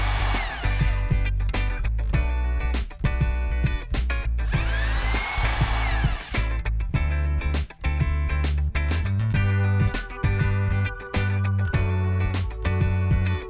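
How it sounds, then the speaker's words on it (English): A power drill bores small pilot holes through a wooden cabinet drawer front, loud whining bursts starting and stopping repeatedly with brief pauses between holes. "drill small pilot holes then drill 3/16 inch holes while holding a piece of wood behind the drawer"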